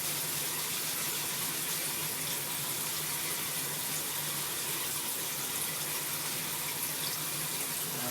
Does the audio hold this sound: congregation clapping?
no